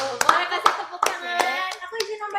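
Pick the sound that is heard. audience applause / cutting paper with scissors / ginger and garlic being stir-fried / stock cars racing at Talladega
audience applause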